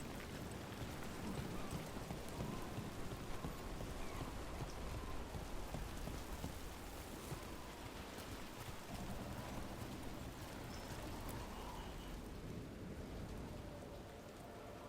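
Steady heavy rain pours continuously in a fantasy game world, with low rumbles of thunder rolling underneath; a dense, even wash of drops with no voices.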